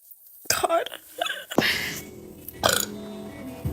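Close, loud burping from a woman full of carbonated drinks, several gulping belches in a row ending in a long rasping one.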